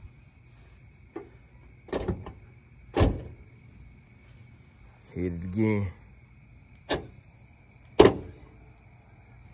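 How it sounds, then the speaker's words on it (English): Solenoid door poppers fitted to a car fire with sharp, isolated clacks spaced several seconds apart, heard up close amid quiet surroundings with a short spoken exchange in the middle. "So you mean to tell me your door pops out when you push the button?"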